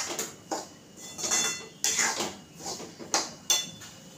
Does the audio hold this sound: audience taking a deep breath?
no